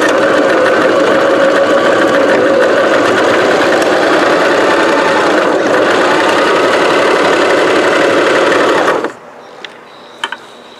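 A Janome mechanical, non-computerized sewing machine stitches a thick denim hem. It runs with a loud, steady motor whir and rapid needle rhythm for about nine seconds, then stops abruptly, leaving near-silence with a couple of faint clicks.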